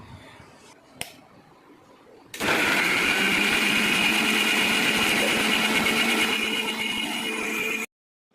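A mixer grinder blends spice paste for a fish curry, a loud steady motor whir kicking in abruptly after a couple of quiet seconds with a single click, running for about five seconds and then cutting off sharply.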